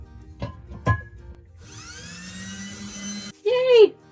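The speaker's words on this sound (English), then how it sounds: "I need to pre-drill these holes, so I'm gonna do that real quick" A power drill pre-drills holes for hooks, whining loudly and steadily for a couple of seconds after a few knocks, followed by a brief rising-and-falling higher whir.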